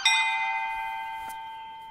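A single bell is struck once and rings with a clear metallic tone that slowly decays, close by and alone, with a faint second tap partway through.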